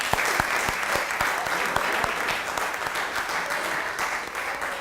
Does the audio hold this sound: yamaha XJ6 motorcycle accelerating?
no